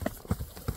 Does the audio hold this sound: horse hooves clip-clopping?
yes